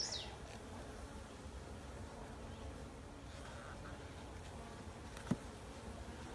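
Honey bees buzzing around an open nuc hive during an inspection, a dense continuous hum close by with a single sharp click near the end.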